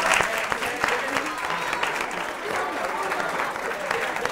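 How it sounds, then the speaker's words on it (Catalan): A television quiz-show studio audience applauds in a brisk, steady patter of many hands, moderately loud and close, with some talking running through it. "però amb aquest aplaudiment que et fem ara"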